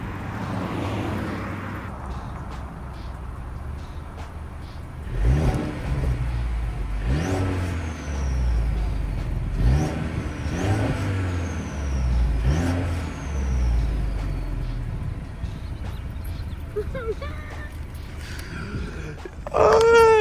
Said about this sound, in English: And let me go revving.